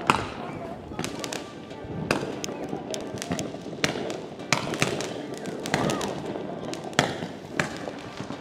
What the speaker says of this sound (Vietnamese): Bây giờ là Tú cũng mua được một hộp pháo quốc phòng,